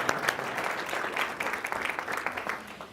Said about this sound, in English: So if we can get a little mini round of applause if you guys enjoyed those.